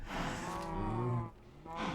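Cows in Minecraft let out a loud, drawn-out moo lasting about a second, followed by a brief pause and the start of another low bellow.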